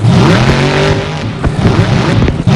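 The monster truck Grim revs loudly at a tournament time attack event, its engine roaring and rising in harsh bursts, close and dominant with no voices.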